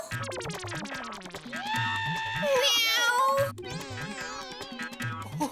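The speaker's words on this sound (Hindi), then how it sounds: "अभी भी सुनो ना, म्याऊ म्याऊ।" Repeated cat meows, loud and close, overlapping with a rhythmic electronic beat and a long drawn-out wail in the middle.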